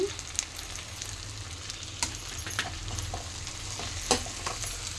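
Chili powder and coriander powder frying in a pan for a sweet potato curry, a steady close sizzle with scattered crackles and a few sharper pops, no talking.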